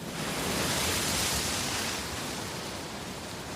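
Atlantic ocean waves break along the Basque coast, a broad, steady hiss of surf that swells slightly and then eases, heard alone without voices.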